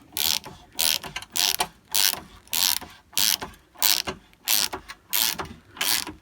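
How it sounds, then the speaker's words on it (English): A socket ratchet tightens a fastener on the roller drive gearbox of a Honda Pro mower, clicking in a steady series of short, loud bursts with brief pauses between strokes, close up and with no talking. "I'm going to tighten that now. So I'll just get a socket and do that."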